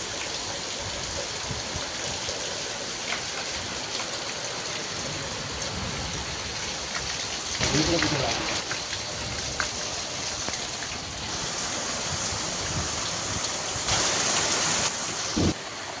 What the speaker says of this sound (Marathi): पाऊस खूप लागतोय कोकणात.